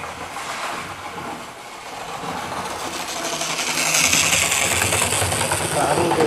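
A model railway train runs on its track with a continuous mechanical whir and rattle that builds gradually louder, a buzzing motor drone layered with clicking wheel noise.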